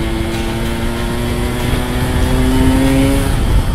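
A Yamaha RX King motorcycle, its front brake failing, takes bends on a mountain road, the engine droning loud and close with a steady tone that climbs gradually as it revs.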